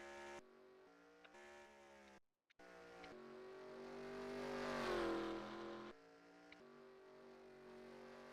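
Race car engine in NASCAR Racing 2003 droning steadily at pit-lane speed, a sustained loud hum with a brief cutout, swelling and shifting pitch midway before settling back to a steady tone.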